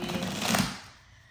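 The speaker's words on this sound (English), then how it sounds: "let me just shuffle these" Tarot cards are shuffled close by in a brief papery riffle that swells and then cuts off, leaving near silence.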